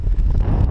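Strong mountain wind buffets the microphone in a loud, low, gusty roar that lasts under a second, with no speech over it.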